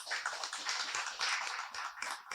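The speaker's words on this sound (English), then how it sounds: "Give her a round of applause" An audience at a panel conversation applauds, a dense, continuous wash of clapping filling the whole short stretch at moderate loudness.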